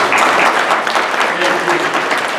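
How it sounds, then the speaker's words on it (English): Audience applause at a township annual town meeting, a steady, dense wash of clapping from a hall full of people lasting the whole moment without pause. "just give them a little applause"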